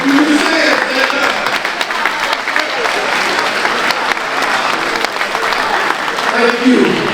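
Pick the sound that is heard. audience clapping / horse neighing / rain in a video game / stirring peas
audience clapping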